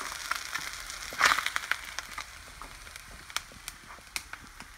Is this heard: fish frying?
yes